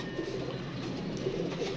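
Pigeons coo softly nearby, low throaty murmurs repeating over a quiet background with no talking.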